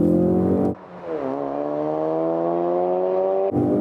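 A Ford Focus RS all-wheel-drive car launches from first gear using launch control, its engine note dipping and then climbing steadily in pitch as it accelerates hard, loud and close, with a sharp break at the start and the end.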